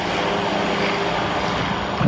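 Engines of the Voyager aircraft roar steadily at full power during its takeoff roll with a heavy fuel load, a loud continuous drone with no talking.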